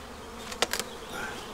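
Honey bees buzzing in an open hive box, a steady low hum with a couple of brief louder buzzes as individual bees pass close, no talking.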